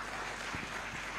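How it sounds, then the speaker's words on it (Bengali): An audience at a talk given by a motivational speaker bursts into dense, loud applause, a steady wash of clapping that fills the whole brief moment. "একটা জোরে হাততালি দেই।"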